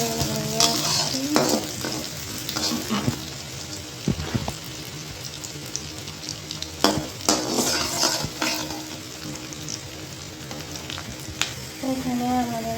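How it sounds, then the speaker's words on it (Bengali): Onion and garlic frying until brown in oil for homemade dal, a constant loud sizzle with stirring scrapes and occasional sharp utensil knocks against the pan. "পেঁয়াজটা আর রসুনটা বাদামি কালার হয়ে আসছে"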